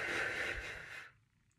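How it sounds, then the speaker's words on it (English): A bassoonist pushes a short pulse of breath from the mouth onto a hand held several inches away, a soft airy hiss lasting about a second before cutting off to quiet. "you're just gonna pulse some air onto your hand"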